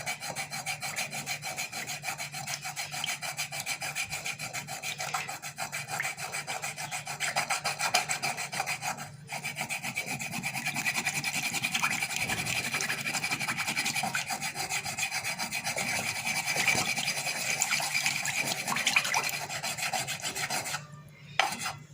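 A turmeric root rubbed against a stone makes a continuous close rasping scrape that runs in repeated strokes, with one short pause partway through and a brief stop near the end.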